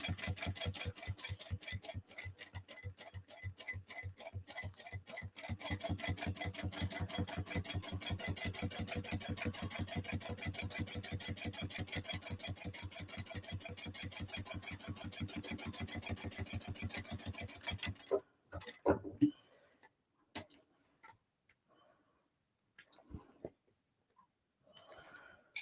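A sewing machine bastes around the edge of a Vicky May 3 bag in a rapid mechanical stitching patter lasting about eighteen seconds, quiet and steady, then stops and leaves a few faint clicks and handling sounds.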